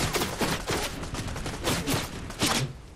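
Rapid bursts of gunfire in the video game Fortnite, loud and close, firing in repeated volleys with short gaps, the last burst strongest, with no talk over it.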